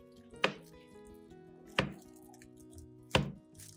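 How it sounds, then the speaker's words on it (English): A knife cuts through watermelon pieces on a cutting board in three separate sharp chops, evenly spaced and close, with a faint wet quality and no talking. "Place the melon piece on a clean cutting board and slice into bite-sized sticks."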